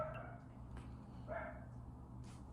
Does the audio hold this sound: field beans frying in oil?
no